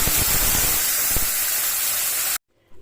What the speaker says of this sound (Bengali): আগে থেকে ফেটিয়ে রাখা দইটা আস্তে আস্তে এর মধ্যে দিয়ে দিচ্ছি